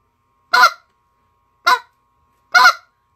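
A goose call blows three short, sharp honking spit notes, loud and close, evenly spaced with silence between them.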